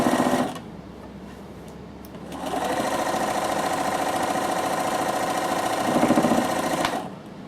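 A sewing machine back-stitches a seam in cotton fabric, a loud, fast, steady whirring run of stitches that pauses briefly near the start, then continues for several seconds before stopping.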